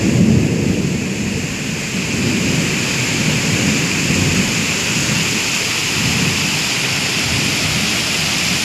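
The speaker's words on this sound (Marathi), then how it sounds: "बघा हे पहिला पाऊस आहे आपला." Heavy rain from the season's first downpour pours down in a dense, steady roar that stays loud and unbroken throughout, with no voices.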